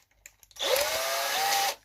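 An electric drill whirs steadily for about a second after a click at start-up, close and loud with no talk over it, while boring a small hole in a workpiece.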